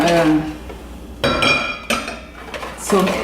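Metal utensil clinking and scraping against a pan while egg mixture for crème pâtissière is stirred, a few sharp chinks separated by softer swishing strokes, with a voice speaking at the start.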